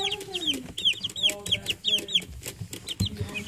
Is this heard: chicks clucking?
yes